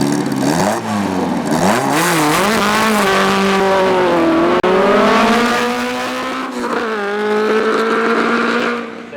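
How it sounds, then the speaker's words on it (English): A Vixen VB1 Formula 4 racing car with a Hillman Imp engine runs a hillclimb course, its engine loud and close, rising and falling in pitch through gear changes, with one brief break around midway. "The Vixen VB1 was built by Alec Bottoms in the late 60s for Formula 4"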